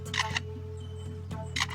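A bird mimics a camera shutter, giving two crisp mechanical click bursts about a second apart over a steady low hum, close and clear.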